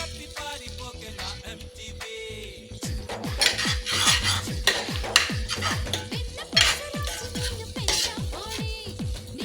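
Thickening paneer curry gravy is stirred in a pan, a close run of rhythmic scraping strokes against the metal base over a low sizzle, quickening and growing louder after the first couple of seconds.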